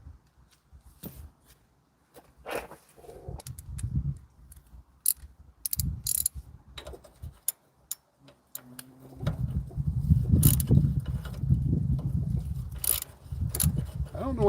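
A socket wrench ratchets in short bursts of rapid clicks while the carburetor comes off a Wheel Horse B115 garden tractor, with pauses, small clinks and rustling between, then a longer run of busier mechanical noise toward the end.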